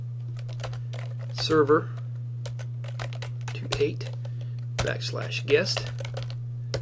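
Light, irregular clicking of computer keyboard keys as an IP address is typed, with short bursts of keystrokes broken by pauses. A person speaks briefly at moments over a steady low hum.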